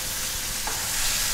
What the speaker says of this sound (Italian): Vediamo come frigge subito.